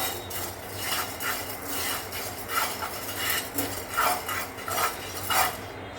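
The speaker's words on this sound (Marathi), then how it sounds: "आता आपण हे आपले मसाले भाजून घेऊया आणि अगदी मंद आच्यावरती आपल्याला हे सर्व भाजून घ्यायचं आहे" Spices roast in a pan over a low gas flame, with a utensil scraping and clinking against the metal in repeated soft strokes over a faint background hiss, fairly quiet and close.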